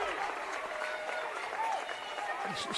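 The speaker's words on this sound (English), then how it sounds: "Crowd getting into it a little bit more." Crowd at a girls high school basketball region playoff game in a gym, a steady roar of cheering and clapping with a commentator talking over it.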